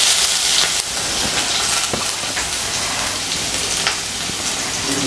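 Garlic, ginger and green chillies sizzle steadily in a hot pan, a continuous close frying hiss with faint crackles and no talk.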